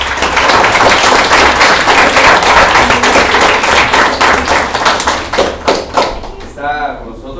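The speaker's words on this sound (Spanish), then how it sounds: "por un fuerte aplauso para él, por favor" A small audience at a reading club claps loudly and close for a guest writer, the dense applause thinning into a few scattered claps near the end.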